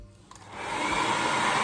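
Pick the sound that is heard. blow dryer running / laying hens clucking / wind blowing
blow dryer running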